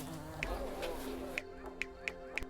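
Bees in the Laysara building game give off a steady insect buzz with soft repeated clicks; the hum drops away halfway and sharp ticks carry on, no talk.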